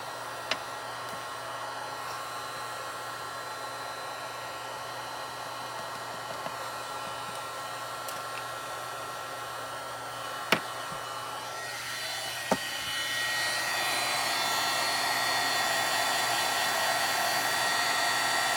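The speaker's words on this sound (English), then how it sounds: "Okay, I'm going to heat up my heat tool before I set it." Heat embossing tool warming up for card making, giving a steady loud electric whoosh of hot air that runs for the whole stretch and grows slightly louder and brighter toward the end, with a couple of faint clicks.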